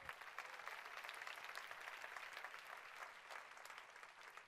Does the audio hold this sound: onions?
no